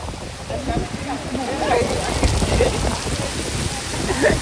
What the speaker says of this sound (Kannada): ಮಳೆ ಅಂತೂ ಸಿಕ್ಕಾಪಟ್ಟೆ ಬರ್ತೈತಿ